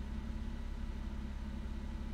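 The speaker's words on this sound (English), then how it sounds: "but yet the car is idling right" A warmed-up car engine idles steadily after maintenance in which the throttle bodies were taken out, a faint, even low hum with a smooth continuous drone and no change in pitch.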